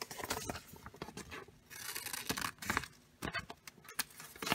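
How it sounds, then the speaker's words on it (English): Scissors snip through paper while cutting out simple circle shapes, producing a run of close, crisp cuts and rustles in irregular bursts, with a brief quieter pause midway. "I'm going to go ahead and cut out these circles"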